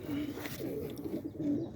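Pigeons cooing in a small loft early on a Sunday morning, a steady run of low, throaty coos overlapping one another at close range with no talk.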